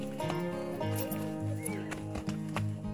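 Horse on a rural outing, with a loud nearby whinny over rhythmic clip-clopping hooves and faint background voices.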